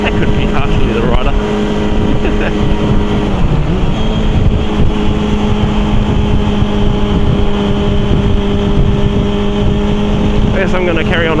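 A very old motorbike with a sloppy gearbox being ridden: a steady, loud engine drone runs continuously throughout, mixed with wind rush.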